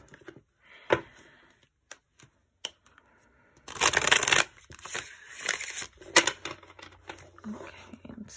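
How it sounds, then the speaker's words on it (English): A deck of tarot cards is handled and shuffled. First come a few sparse taps and riffles close to the microphone, then a louder burst of rapid riffling, followed by intermittent shuffling bursts. "Okay, let's give it like one more shuffle."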